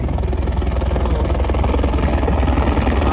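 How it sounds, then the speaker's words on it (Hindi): Helicopter arriving at the Kedarnath helipad, a loud, close, continuous rotor beat with steady engine roar throughout. "और ये हमारा हेलीकॉप्टर आ गया है।"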